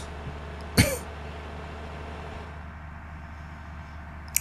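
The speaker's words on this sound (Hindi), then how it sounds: "मेरे को खांसी आ रही है बहुत ज़ोर वाली" A single loud, sharp cough bursts out near the start, close to the mic, over a steady low hum, with a faint second catch near the end.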